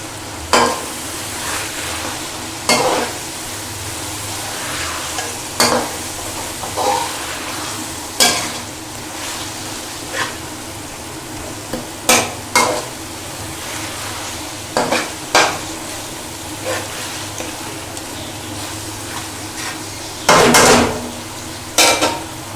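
Fenugreek leaves fry in a pan with a steady low sizzle, while a spoon or spatula scrapes and knocks against the metal in sharp, irregular strokes every few seconds.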